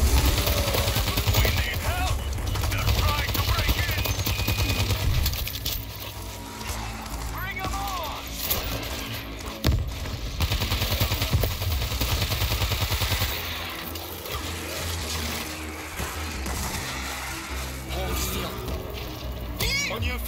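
Rapid gunfire from World War Z: Aftermath rattles almost continuously in a loud chaotic firefight, with voices shouting over it.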